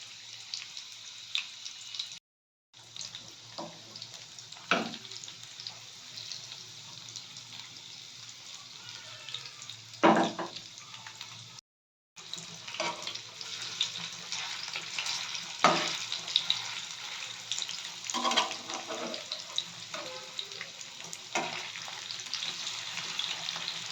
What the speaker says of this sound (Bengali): আমি পরপর সবগুলো ছেড়ে দিয়েছি গরম তেলে। এগুলো একটা লো ফ্লেমে হবে